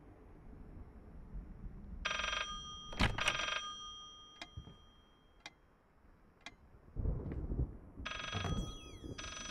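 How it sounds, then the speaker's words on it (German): A telephone rings in the horror video game Layers of Fear, sounding in two loud bursts of ringing separated by quiet ticking and creaks, with no talk over it. "Was? Telefon?"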